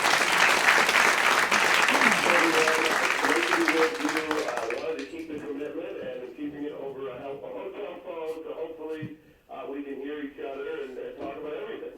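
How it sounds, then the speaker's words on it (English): A live studio audience in a radio station performance space claps, loud dense applause for a few seconds that fades out as a telephone-quality voice takes over and talks. "That, by the way, may be your first round of applause delivered by telephone."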